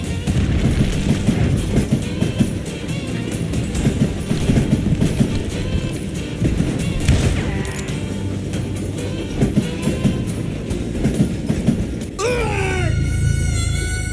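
A train rolls along the rails in the Western game Call of Juarez Gunslinger, a dense, continuous rumble with clattering and rhythmic knocks, ending in a sharp rising screech, with no voices heard.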